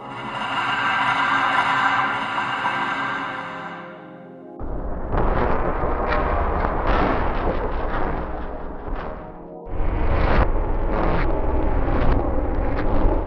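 Eerie Citadel ambient cues from Half-Life files found in Left 4 Dead: a droning tonal hum that cuts off into harsh scraping, rumbling mechanical noise with rhythmic surges, a brief drop, then a loud return.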